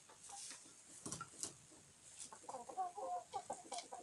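Young roosters and hens cluck in a farmyard, a mix of short clucks and brief calls that rise and fall over several seconds, close and fairly clear against light background noise.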